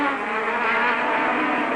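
Honda engine of Nigel Mansell's Williams Formula 1 car at the Spanish Grand Prix: a steady, high-pitched, buzzing engine whine held for under two seconds, heard at some distance with no voices.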